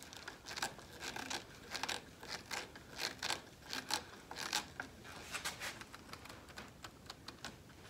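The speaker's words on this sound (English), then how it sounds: "I just want to get the screw seated" Screw being driven into an elm console table leg, a run of short scraping, ratcheting bursts with small clicks, close and fairly quiet, no talking.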